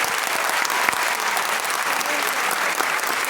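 Loud, sustained applause from a large audience at a talk, a dense wash of many hands clapping continuously at close range, with faint voices mixed into the crowd.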